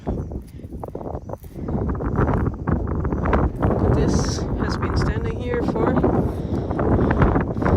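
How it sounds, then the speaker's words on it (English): Strong wind gusts roar across the mic beside crumbling adobe walls and straw in Baja California, a steady buffeting rumble that runs throughout under a man's close, continuous speech. "Hopefully you can hear me because it's very windy"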